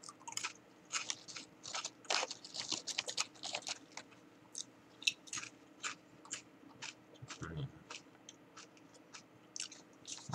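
Wasabeef potato chips crunch in repeated close bites and chewing, crisp irregular crackles at low volume with brief pauses between mouthfuls.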